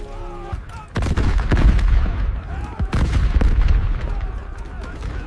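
Cannons boom in a dramatized battle, several loud, close blasts with rumbling echoes and scattered gunfire, while voices shout over the din.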